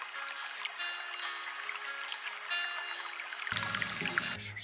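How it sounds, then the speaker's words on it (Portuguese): A recorded flowing-water sound from a Japanese public toilet in a mall or subway restroom, a steady trickle and stream that grows fuller and louder partway through, with no talking. "algumas têm um barulhinho de água pra você apertar e ela fica fazendo"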